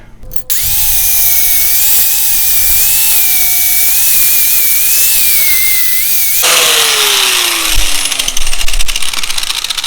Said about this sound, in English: I'm going to have to grind all that back out and redo the weld on that